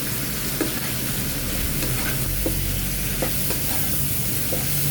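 Kangkong laing with shrimp, seasoned with salt and pepper, sizzles and fries in a pan while being stirred, giving a continuous loud crackle with scattered scraping taps from the spoon.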